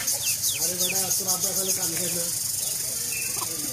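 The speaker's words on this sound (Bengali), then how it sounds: "এই যে দেখেন বাচ্চা মুরগি মাছ নিয়ে লাফায়" Chickens cluck and squawk close by in short bursts as a young chicken jumps about with a fish in its beak, with other bird-like chirps and background activity around them.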